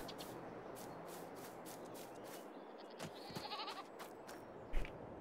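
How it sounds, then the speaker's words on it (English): Goats in a pen bleat a few times at moderate distance in Farming Simulator 22, over a steady background hiss, with a brief shuffle near the end. "we got a pen full of goats now"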